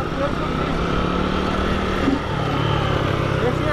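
Honda Fan 150 motorcycle from 2014 on a dirt rally ride, a steady engine drone with wind rush, loud and continuous, with voices talking over it.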